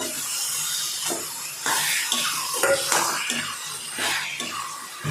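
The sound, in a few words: half kilo of meat added to pot and stirred for chicken kurma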